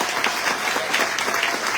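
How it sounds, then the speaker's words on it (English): A press conference audience gives a short, steady round of applause, a dense wash of clapping with no break. "Give her a round of applause."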